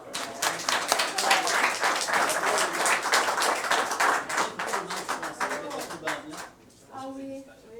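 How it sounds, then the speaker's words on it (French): Sustained audience applause fills a municipal council meeting room, dense and steady clapping for several seconds before thinning out near the end, with voices mixed in underneath. "On les applaudit encore."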